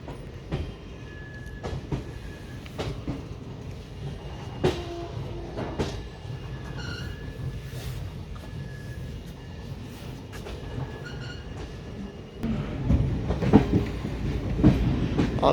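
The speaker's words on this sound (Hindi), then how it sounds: "बहुत ही मंद गति से चल रही है ट्रेन।" The Chitrakoot Express rolls slowly through Katni junction, a steady rumble with rhythmic clickety-clack of wheels over rail joints, growing louder and heavier toward the end, with no talk.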